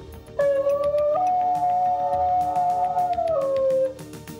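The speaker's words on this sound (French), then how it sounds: "le chien chantant de Nouvelle-Guinée, célèbre pour le timbre particulier de son hurlement" A New Guinea singing dog gives a single sustained, tonal howl with a distinctive timbre, rising in pitch early on, holding steady for about three seconds, then sliding down and stopping; close and clear against a quiet background.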